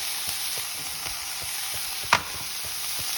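Minced chicken keema with potatoes, peas and masala sautéing in a hot pan, a steady close sizzle broken by soft scraping stirs and one sharp utensil clink.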